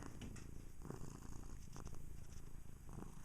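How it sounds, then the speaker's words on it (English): A kitten purrs steadily and close up, a continuous low rumbling motor with soft rhythmic pulses, alone. "This kitten's motor is really running."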